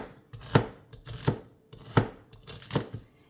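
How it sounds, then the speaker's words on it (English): A knife chops through celery ribs on a cutting board in four distinct, evenly spaced thuds, close and clear. "Just chop up your ribs of celery."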